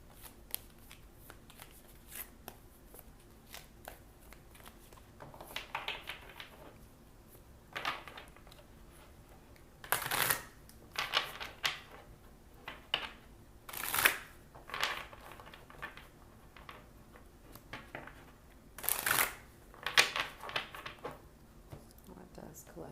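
A deck of oracle cards being shuffled: soft, repeated riffling and slapping bursts scattered through the clip, some sharper snaps, under quiet, close talk.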